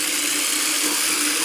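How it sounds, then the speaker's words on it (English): Power drill boring small locating holes through a soprano ukulele top, heard as a close, steady, loud whirring whine with a hissing edge that runs unbroken throughout. "I'm just going to drill a couple of locating holes"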